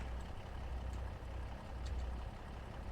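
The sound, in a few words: tractor engine in Farming Simulator 25 video game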